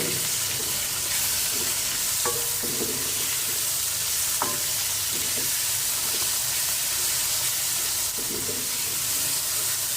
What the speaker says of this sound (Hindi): कीमे को अच्छी तरह इसमें फ्राई करना है